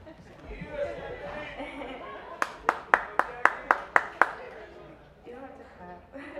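A short burst of audience clapping, about eight crisp even claps, rising out of a room murmur with a speaker's voice before and after.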